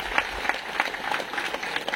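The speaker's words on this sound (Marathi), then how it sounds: "जोरदार टाळ्या" Applause rising from a large crowd at a women's political rally, fairly faint and distant, with clustered bursts of clapping across the whole stretch and a faint murmur of voices beneath.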